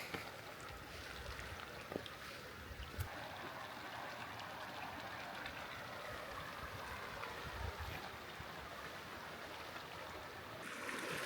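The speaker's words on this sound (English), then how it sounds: "That's a cute little creek." Small mountain creek in green Colorado backcountry in summer, a steady gentle wash of flowing water that stays even and fairly faint throughout, with no voices.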